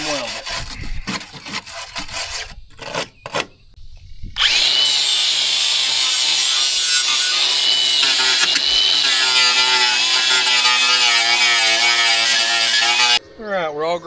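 Steady power tool grinding on the metal of a Lexus GX470, cleaning dried mud and junk off, running loud and continuous for about nine seconds after a stretch of quieter scraping and handling noises.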